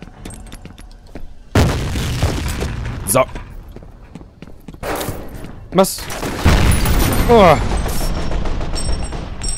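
Several booming explosions burst one after another among game sound effects in F.E.A.R. Extraction Point, loud and close, while someone talks and exclaims between them.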